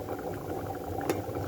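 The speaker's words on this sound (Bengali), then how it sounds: "এটা পুঁই ফল দিয়ে রান্না হচ্ছে" Curry of Malabar spinach fruit simmering in a pot, giving a steady close bubbling and hissing broth sound with one brief louder pop near the end.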